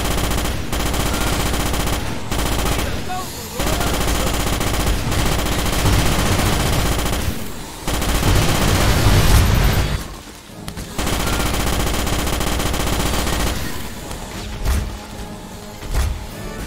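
Loud, sustained rapid bursts of gunfire and blasts crackle and rumble continuously, with brief gaps between volleys.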